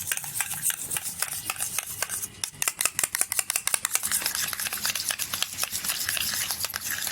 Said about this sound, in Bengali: খুব সুন্দরভাবে এটা চামচ দিয়ে আমি একটু নেড়ে চেড়ে মিশিয়ে নিচ্ছি।